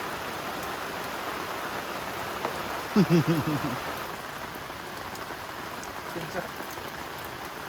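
Steady rain falls at a campsite during wet-weather camping in Hwacheon, a constant broad hiss of drops on surfaces throughout, with a brief voice speaking midway.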